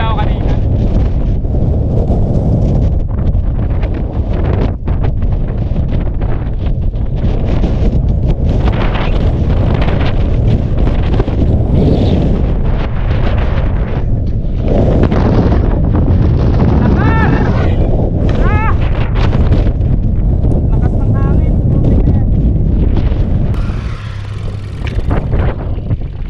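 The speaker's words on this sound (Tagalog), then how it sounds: "nakakadala yung hangin dito" Strong wind roars steadily into the microphone on a mountain bike trail at Villa Verde in Pangasinan, a loud continuous buffeting rush with brief voices and rider sounds mixed in throughout.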